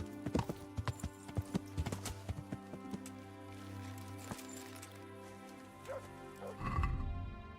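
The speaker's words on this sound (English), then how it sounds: "Horsey." Hooves of a trotting horse in Kingdom Come Deliverance clop in a quick irregular rhythm near the start, then fade under layered game music, ending with a brief snort-like burst.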